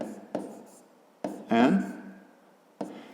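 Chalk or marker strikes a board in a few sharp taps, with one quick scratchy stroke in the middle while drawing a math triangle, heard close and fairly clear in a quiet room.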